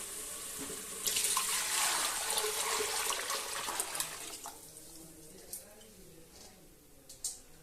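Liquid is poured into a pan of oily masala for a spicy village-style chicken curry, making a loud rushing splash for a few seconds that fades into a faint simmer with small drips.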